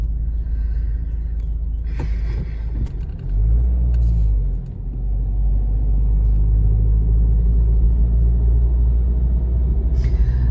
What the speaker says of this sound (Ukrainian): Щось у нас тут трафік такий, машин багато.